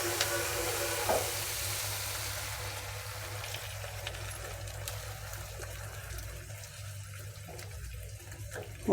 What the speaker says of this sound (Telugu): ఇప్పుడు మనం ఇందులో కొద్దిగా అంత వాటర్ వేద్దాము